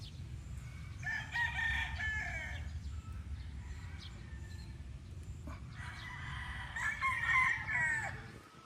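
A young gamecock (stag) crows twice, loud and nearby, each call a long strained cock-a-doodle-doo separated by a few seconds of quiet rustling.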